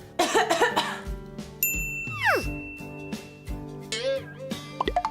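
A few quick coughs open the clip, followed by bright chiming tones and sliding, whistling effects over a soft musical backdrop.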